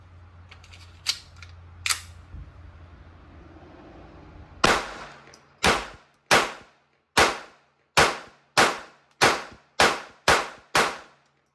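Walther P22Q pistol firing Federal Hammer Down .22LR rounds: two early shots, a pause, then a steady string of about ten sharp, loud cracks in quick rhythm, with no talking.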